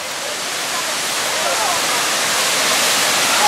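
The Trümmelbachfälle waterfall in Switzerland roars as a loud, constant wash of rushing water, heard close and unbroken throughout.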